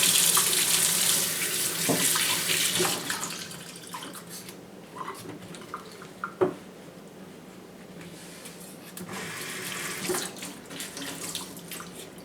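Tap water runs hard into a kitchen sink as a pan is scrubbed with a rough bleached flour sack cloth, with a steady gush that eases, then picks up again, plus occasional clanks and rubbing.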